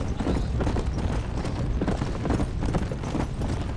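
Rapid, continuous hoofbeats of a galloping flaming horse in Red Dead Redemption on PC thud along under a dense, noisy background with no pauses.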